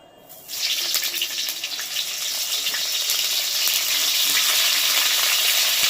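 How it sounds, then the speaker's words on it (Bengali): Large cauliflower florets hiss and sizzle in a pan of hot oil. The frying starts abruptly after a quiet half-second and then holds as a loud, steady, dense crackle with no talk over it. "বিশাল আওয়াজ করে ফুলকপি।"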